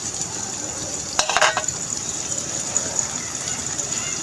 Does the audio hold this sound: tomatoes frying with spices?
yes